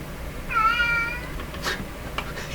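A pet cat gives a single drawn-out meow close to the microphone in a room where a Nordmende Traviata 59 tube radio is being repaired, with faint soft clicks afterward and no talking.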